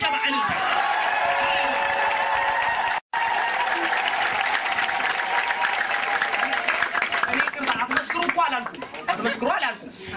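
A congregation at an Ethiopian church sermon breaks into loud, sustained applause mixed with high ululation and crowd voices, a brief cut near the start, then the clapping thins out toward the end.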